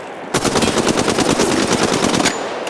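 Automatic gunfire in the mobile shooter Apex Legends Mobile, one loud close burst of rapid shots that rattles on for about two seconds and then stops abruptly.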